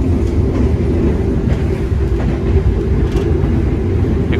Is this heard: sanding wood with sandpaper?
no